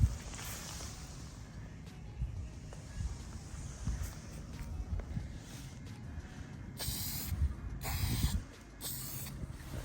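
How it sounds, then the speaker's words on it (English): Clear coat sprayed from a can over Millennium Yellow painted engine parts for a Honda GX160 mini bike, with short hissing bursts near the end over a low, steady background rumble. "we're gonna hit it with clear coat to protect it and give it a better shine."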